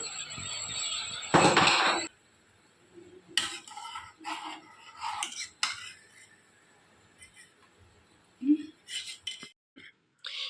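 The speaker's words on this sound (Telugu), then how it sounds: "షుగర్ వేసుకున్న తర్వాత అయితే మనం ఇలా కలుపుకోవాలండి" A spoon stirs sugar into a cup of tea, giving light clinks and scrapes against the cup in short separate bursts, close by and fairly quiet, with pauses between them.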